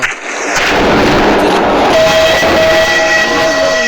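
A train in the video game Spider Train rumbles loudly and steadily with metallic rolling noise and a sustained whistle-like tone rising partway through, continuous throughout.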